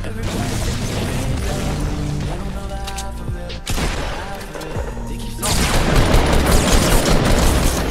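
Pump-action shotgun fire in a video game: a few sharp, heavy blasts burst out of a dense, continuous wash of game noise, with the final seconds growing louder and busier.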